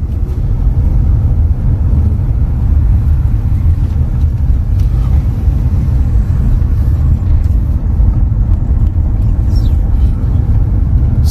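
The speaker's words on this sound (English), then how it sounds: "The road condition at in this side is gonna be a little bit bad, so you're just gonna enjoy the bumpy ride." A car drives along a rough, bumpy road in Bull Savannah, St. Elizabeth, Jamaica, producing a steady, loud low rumble of engine and road noise throughout, with no talking.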